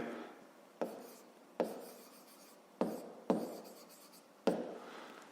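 A pen writes on paper during a math exercise, producing soft scratchy strokes punctuated by several sharp taps as the pen touches down, close and quiet with no talking.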